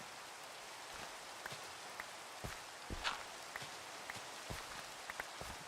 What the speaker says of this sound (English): Ooh, we got rain. How we got jungle rain?